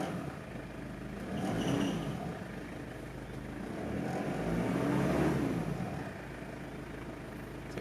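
A 1995 Mitsubishi Pajero Exceed-II turbo diesel intercooler engine runs just after startup, a low rumbling idle with two gentle swells in loudness, heard from a moderate distance with no voices.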